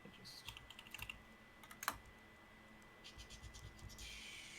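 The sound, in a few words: typing on a clacky mechanical computer keyboard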